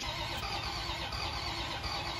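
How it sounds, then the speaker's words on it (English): A diesel engine (1HDFTE conversion) cranks over without firing because it has no fuel, giving a steady, continuous starter-motor grind that stays loud and close throughout. "27 hours of cranking with no fire, however, was not intentional."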